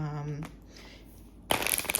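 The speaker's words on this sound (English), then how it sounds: "So I'm going to shuffle these cards just so that they're nice and adequately done." Good-quality playing cards being shuffled by hand, a brief dense riffle burst near the end following a short voiced tone and quiet pause.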